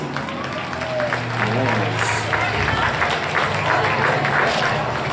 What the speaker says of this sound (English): Round of applause for these drivers